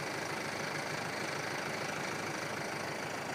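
A Hyundai Santa Fe engine idles steadily and evenly after starting, a constant low rumble with no talking, close by, with the exhaust smoking.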